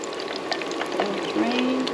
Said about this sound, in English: Let the oil drain.